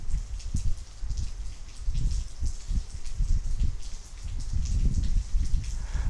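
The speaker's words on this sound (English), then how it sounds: "It's raining very heavily." Heavy rain pours down in a steady, dense patter, with the drumming on surfaces swelling and easing throughout and no voices present.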